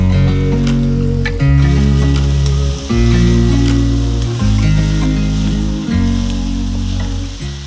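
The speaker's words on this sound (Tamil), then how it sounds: "இஞ்சி பூண்டு பச்சை வாசனை போனதும் நம்ம கட் பண்ணி வச்சுருக்க தக்காளி சேர்த்துக்கலாம்." Chopped tomatoes fry and sizzle in a pan with ginger-garlic paste for a soya chunk dish, a loud, close, continuous crackle broken by rhythmic stirring scrapes.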